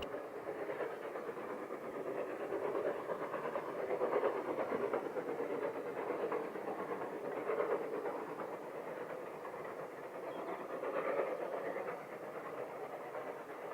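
An LNER V2 steam locomotive runs at a Gresley weekend on the North York Moors in 2005, giving a steady broad rumble with rhythmic chuffing swells, heard at moderate distance with no voices.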